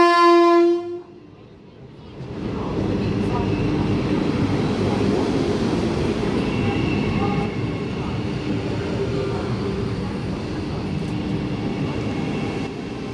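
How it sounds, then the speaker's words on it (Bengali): The Vande Bharat Sleeper express, train 27575 on the Howrah–Kamakhya route, arrives at a station platform: a brief horn blast opens, then a loud, sustained rolling rumble of wheels and carriages builds and continues close by. "27575 বন্দে ভারত স্লিপার ঢুকছে।"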